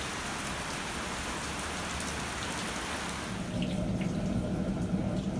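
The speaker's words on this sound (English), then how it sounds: "So it started to rain good" Heavy rain pours steadily, a dense even hiss of drops hitting surfaces close by, which grows a little fuller and patterier toward the end.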